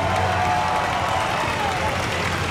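Crowd at a pig-and-Ford race event clapping in a broad, continuous patter that holds steady throughout, heard from within the audience with a faint tone drifting underneath.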